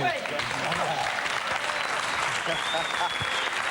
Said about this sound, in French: Ça passe, c'est applaudi, bravo.